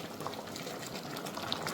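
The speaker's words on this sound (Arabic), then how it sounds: "هنغطي عليها بقى ونسيبها تاخد كده 3 4 غلوات مع بعض" Shrimp pasta simmers in a covered pot, giving a soft, steady bubbling hiss with scattered faint pops, quiet and close throughout.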